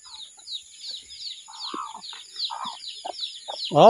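Chickens clucking and calling repeatedly at close range, with soft chirps mixed in and a louder squawk at the end.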